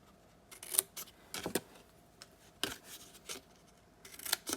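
Scissors snip out the corner of a paper notepad cover in a papercraft project, giving a few separate, sharp, close cuts with quiet gaps between them.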